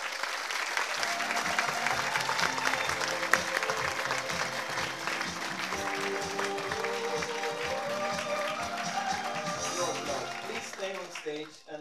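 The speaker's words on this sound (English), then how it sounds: "applause to all the people" Audience applause fills a closing ceremony hall at the WorldSkills Competition 2022 Special Edition in Leonberg, steady and loud throughout, with music and a voice over it that taper toward the end.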